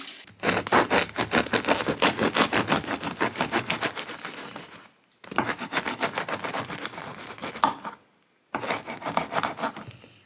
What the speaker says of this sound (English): Let me get my bread cut up then